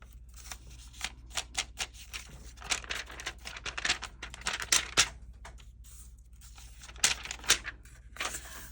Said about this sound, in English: So if you hear that paper sound